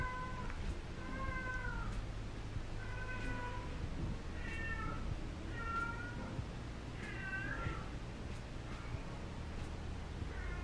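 A small female cat meows repeatedly indoors, a series of clear, fairly close mews spaced every second or so over a steady low background hum.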